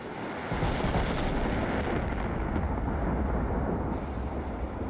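Naval guns firing in a World War II battleship game, a dense, continuous roar of booming gunfire and rumble that stays loud and steady throughout with no talking.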